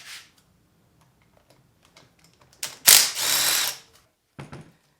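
A ratchet on an extension undoes the intercooler bolts of a Mercedes SL55 AMG with the supercharged M113K engine, a close, fast run of ratcheting clicks lasting about a second, then a few brief clicks after it.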